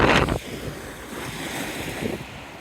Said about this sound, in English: you can see the waves are washing over and they'll get water in here.